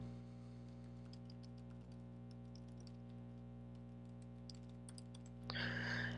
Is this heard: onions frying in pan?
no